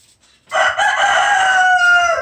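A rooster crows loud and close in one long drawn-out call, starting after a brief quiet moment, at a home where fish are being fried.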